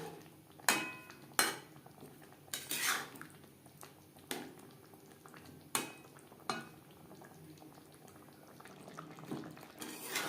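A spoon working through vegetable navratan korma cooking in a pan over medium heat gives sparse, sharp clinks and scrapes against the metal. The strikes come at irregular intervals over a quiet, soft simmer.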